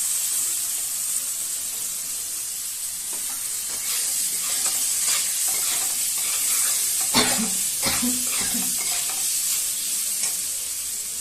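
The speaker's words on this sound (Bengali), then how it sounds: "তারপরে যে টমেটোটা কেটে রেখেছি সেটা দিয়ে দেবো" Chopped tomato goes into a hot frying pan and is stirred: a steady close sizzle runs throughout, with scraping and clattering stirring strokes clustered in the second half.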